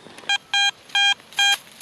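A metal detector set to an 80 max with a small coil gives four short, clean electronic beeps in an even rhythm, each a pure steady tone with pauses between, sounding over a buried button target in a valley field.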